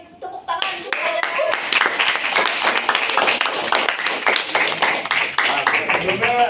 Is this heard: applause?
yes